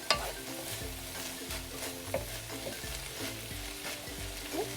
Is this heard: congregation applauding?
no